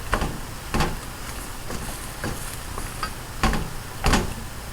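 Onions and vegetables seasoned with fish sauce are stirred around in a pan, giving a series of irregular scraping knocks and clunks from the utensil against the pan, close and fairly loud, with no talking.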